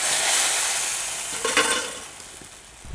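Fried lentil vadas dropped and stirred into hot tiffin sambar in a pot, a brief wet splash and stirring burst mid-way over a steady bubbling hiss.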